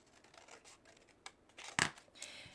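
Scissors snip through a paper card during a concertina fold card craft, giving a few quiet scattered cuts and then one sharp, louder snip near the end with a softer one after it.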